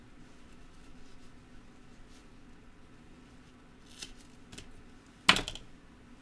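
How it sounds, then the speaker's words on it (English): A few soft clicks, then one sharp, close snip of scissors cutting a small bunch of deer hair near the end, in an otherwise quiet room. "find a little bunch, snip off with the scissors,"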